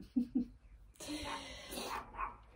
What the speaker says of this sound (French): l'aboiement de mon chien confirme